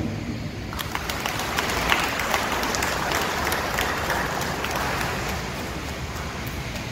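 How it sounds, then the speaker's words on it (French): A congregation applauds during a solemn Mass in honour of Saint Louis in a parish church, the clapping swelling in after a moment into a sustained reverberant wash that continues steadily. "Merci et applaudissements."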